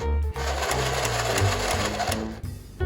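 A toy sewing machine stitches a shirt with a steady, rapid mechanical whir and hum, running continuously and loud for nearly three seconds before stopping abruptly, close to the microphone with no talking.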